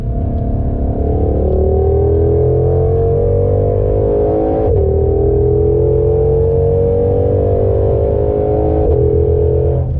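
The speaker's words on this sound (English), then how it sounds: "I love the way this car shifts" A 2021 Ford Mustang Shelby GT500 pulls hard from inside the cabin, its engine note climbing steadily, dropping abruptly at a gearshift near the middle, then climbing again and shifting once more near the end, loud and close with no talk.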